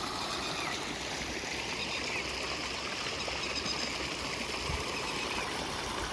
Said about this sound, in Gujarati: ગાંડી ગીરના ઝરણાઓ